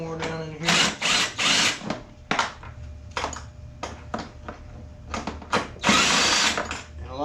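A power drill zips 10 mm bolts off a Taotao Thunder 50cc GY6 scooter, with repeated loud, close whirring bursts of varying length broken by short pauses and ratcheting clicks.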